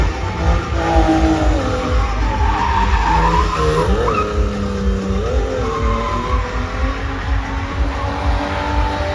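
A street-class car at a Romanian drift championship skids with a loud, sustained tire squeal that wavers in pitch over a roaring engine, close and continuous, with no talk.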